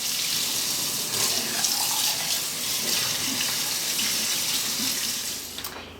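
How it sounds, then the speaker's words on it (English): Cold tap water runs steadily into a sink as cooked food drains under it, a continuous close splashing rush that holds level for the whole stretch, with no voices. "We're going to drain this under cold water."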